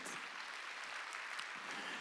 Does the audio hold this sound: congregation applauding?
yes